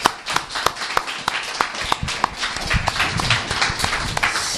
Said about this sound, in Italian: meritano veramente un applauso di incoraggiamento